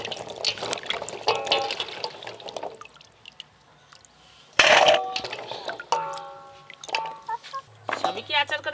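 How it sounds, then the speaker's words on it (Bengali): Whole olives are rinsed in water, with splashing, trickling and dripping in a bowl, a loud sloshing burst midway and a tap running, while someone talks over it. "এই জলপাইগুলো কিন্তু খুব ভালো করে জল দিয়ে ধুয়ে পরিষ্কার করে নিতে হবে।"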